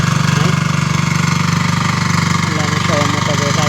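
Tractor engine running for sowing mustard, a steady low throbbing chug close by, with voices talking over it.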